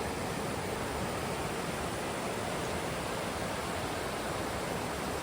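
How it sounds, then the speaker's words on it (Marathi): Small river running through Sahyadri forest near Khed, a dense, steady rushing wash of water filling the whole stretch, loud and unbroken, with no voices. "माझ्या मागे आवाज येतो तुम्हाला?"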